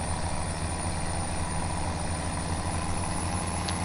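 A tractor engine idling in Farming Simulator 17, with a tractor loaded with extra weight, gives a steady, unbroken low rumble and drone that holds at an even, fairly loud level throughout.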